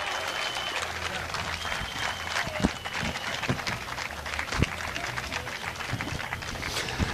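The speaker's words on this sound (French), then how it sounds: "un tonnerre d'applaudissements pour le triple champion d'Europe de la discipline, monsieur Bernd" Applause at a podium ceremony honouring a triple European champion, heard as a steady roar of many hands clapping from a crowd, with a few louder claps standing out nearby and no clear voices on top.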